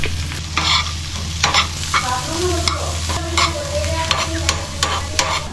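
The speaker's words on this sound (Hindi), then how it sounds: "यही सूखी वाली जो सब्ज़ी है उसमें थोड़ा तड़का लगा देता हूँ प्याज का।" Onions being tempered sizzle and crackle in a hot pan for a dry vegetable dish while a utensil stirs and scrapes at intervals, close up and fairly loud.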